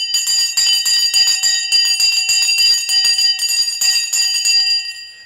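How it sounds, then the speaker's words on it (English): A loud electric bell rings continuously for the stock market open, a bright sustained ringing that drops away just before the end. "The bell has now gone."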